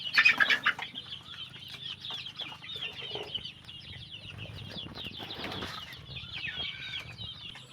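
Chicks only two to three days old cheep and cluck in a close, busy chorus, with bursts of wing flapping near the start over a steady low background hum.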